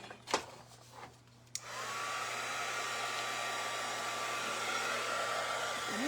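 A heat tool switches on with a click and runs with a steady, loud whooshing blow and a constant whine, drying painted gingerbread-figure craft pieces, after a few soft handling taps beforehand.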